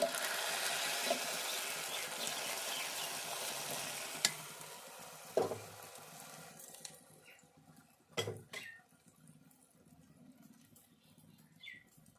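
Jalebi made from urad dal batter fries in hot oil with a loud steady sizzle that fades midway, broken by sharp utensil clinks and stirring knocks.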